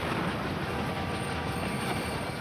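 Train rumbling steadily along the rails, a dense, loud rolling roar with faint clattering wheel texture and no talk.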